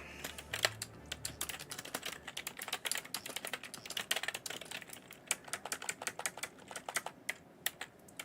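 Rapid typing on a computer keyboard during a live gaming session, with dense, irregular bursts of clicky keystrokes close to the mic, brief pauses between runs, and no talk.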